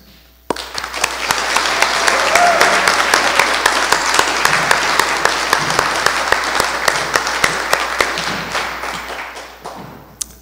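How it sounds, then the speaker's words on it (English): Applause for the graduating class of 2020 at a virtual high school commencement, a dense, steady wash of clapping that starts abruptly, holds loud and even for about ten seconds with scattered sharper claps, then tapers off. "Let's have a big round of applause"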